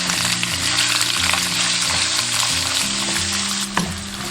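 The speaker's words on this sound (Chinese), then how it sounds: "下入肥腊肉炒出油脂" Fatty Sichuan cured pork sizzles loudly and steadily as it is stir-fried in a wok with a little cooking oil to render its fat, with a brief clatter of stirring near the end and no voices.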